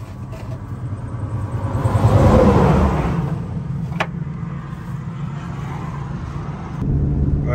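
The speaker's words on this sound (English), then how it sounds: "I'm towing it with my van." A van tows a Chevrolet Tahoe whose drive shaft has fallen out, heard as a loud, steady engine and road rumble from inside the vehicle that swells briefly, with a single thump partway through.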